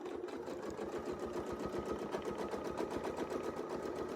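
A sewing machine stitches a quilted wreath design in a fast, even run of needle strokes, steady and close throughout with no talk.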